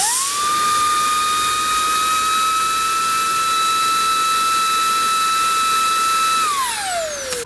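Makita cordless leaf blower running at full power during a side-by-side test against a Milwaukee, giving a loud, steady high-pitched whine and airy rush that holds throughout, then begins to spin down at the end.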